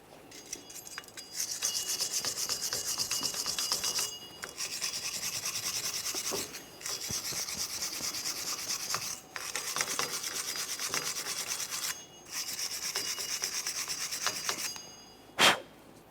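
Steady abrasive rubbing on a 2001-2005 Ford Explorer Sport Trac rear wheel hub as the surface between the studs is cleaned, in repeated scrubbing passes of a few seconds with brief pauses and a sharp knock near the end.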